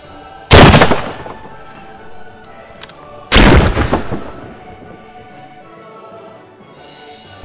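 Pistol caliber carbine firing 450 grain North Fork Flat Point Solid rounds: two loud, sharp gunshots about three seconds apart, each with a booming echo that trails away outdoors.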